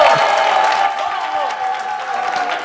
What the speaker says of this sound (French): Applaudissements pour l'équipe des garçons